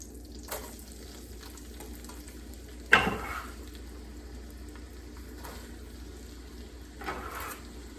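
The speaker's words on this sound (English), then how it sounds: "All we're going to do is saute the vegetables, not the garlic." Vegetables saute in butter with a low, steady sizzle, one sharp clank of utensil on pan near the middle and a few softer stirring scrapes, close by and without speech.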